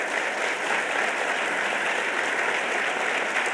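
Dense, sustained applause from an audience at a panel discussion on the 2010 Census, an even wash of many hands clapping without pause.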